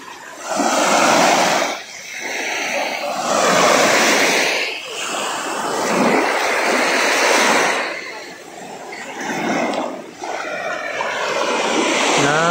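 Sea waves wash onto the beach at Lobo, Batangas, in repeated swells, each rush rising and fading over several seconds, loud and close with no talking.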